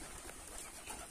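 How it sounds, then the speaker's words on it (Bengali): Pigeons from a backyard flock coo softly and continuously, a faint, low murmur against steady background noise with no voices. "মুস্তাকিমের কবুতর কত কবুতর হয়ে গেছে প্রচুর কবুতর হয়ে গেছে মুস্তাকিমের"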